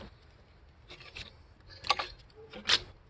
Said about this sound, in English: Now the alternator is going to come all the way out.